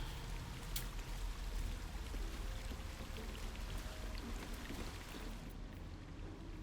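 A waterfall in the video game Baldur's Gate 3 gives a steady, broadband rushing and splashing roar that stays even and moderately distant for several seconds, with no voices over it.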